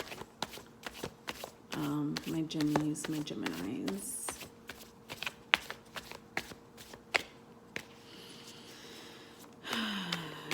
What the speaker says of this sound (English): So let's start shuffling.